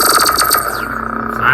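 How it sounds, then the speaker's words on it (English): A T2 "Judgement Day" lightsaber sound font by Repulse Custom Sounds plays blaster-bolt deflection effects: a humming blade broken by several quick, sharp electronic zaps and sweeping whines in close succession, loud and close. "See some flashes. Blaster bolts."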